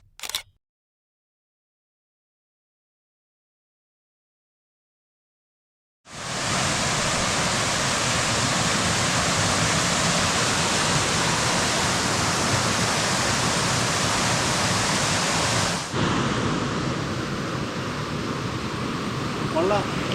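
Water from Melaramthattu waterfall rushing across a concrete road: a steady, loud, broad roar that starts abruptly after a long silence and continues unbroken, close and full, with a slight change in tone near the end.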